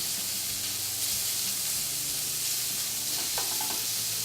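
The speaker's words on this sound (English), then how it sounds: "Render down that fat, get it nice and crispy." Bacon fat renders in a pan with a steady, close broadband sizzle and crackle, a faint stir or scrape near the end, with no one talking.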